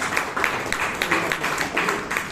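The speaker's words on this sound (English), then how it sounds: "let us give a good round of applause for Toastmasters" An audience at a Toastmasters club meeting in Bangalore claps, a dense, steady patter of many hands at moderate loudness, continuing evenly throughout the short stretch without any voices.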